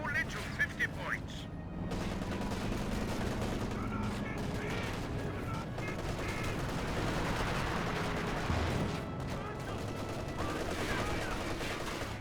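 Scattered gunfire and bursts from a Company of Heroes 2 match, US Forces against OKW, crackling continuously through a dense battlefield mix with a commentator talking over it.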